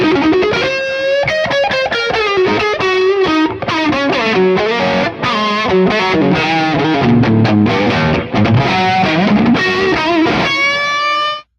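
Overdriven electric guitar playing a sustained lead line through drive pedals into an amp, with bends and held notes, loud and continuous with no talk.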